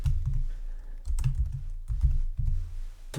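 Several short bursts of typing tap on a computer keyboard close by, separated by brief pauses, with a low rumble under the keystrokes.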